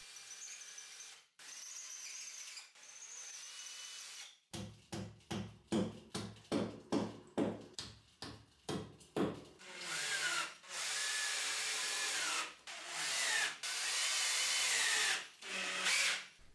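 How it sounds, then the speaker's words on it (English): Power drill boring holes into a garage wall to mount planks, heard as a run of short, loud bursts with brief pauses between them, followed by longer sustained drilling passes. No one speaks. "I drilled some holes, hammered some wall anchors in"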